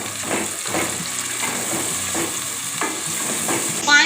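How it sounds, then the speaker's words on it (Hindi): Spice masala with green chilies and fresh coriander frying in oil for a poppy seed keema, sizzling steadily with soft stirring scrapes throughout, close and continuous, with a brief louder clatter at the end. "वो हरा धनिया, हरी मिर्चें ये भी डाल देंगे इसमें, और सब मसाले को हम अच्छे से भून लेंगे।"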